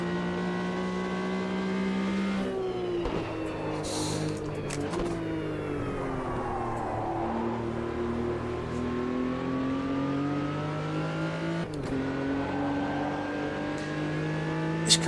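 Race car engine in the Automobilista 2 racing game, droning steadily close up with rising and falling revs through gear changes, loud and continuous with no voices.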